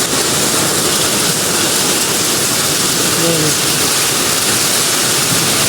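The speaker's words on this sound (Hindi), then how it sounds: "बारिश के साथ ये ओले भी पड़ रहे हैं।" Loud, dense roar of heavy rain with hail pelting surfaces in a village, constant and close, with a voice speaking briefly over it.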